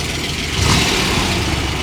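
A 1972 Corvette LT-1 V8 heard from outside the car gives a steady, loud engine drone with a brief swell, close by and without talk.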